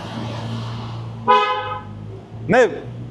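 A car horn honks twice in a narrow street near Castillo San Felipe del Morro in Puerto Rico, two short separate toots over steady background murmur, with voices around.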